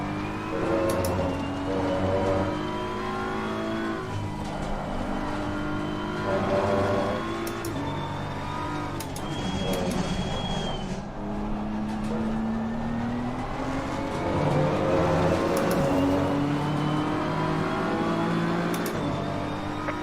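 Race cars roar around the Kyalami circuit, engines revving up and down through gear changes, several cars near and loud, with one passing by mid-way and no talk.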